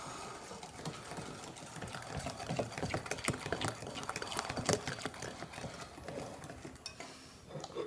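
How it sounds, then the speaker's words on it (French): Flour being stirred in a bowl for chocolate chip brioche rolls, a faint, busy scraping and tapping of a utensil against the bowl with quick irregular strokes throughout. "On mélange la farine."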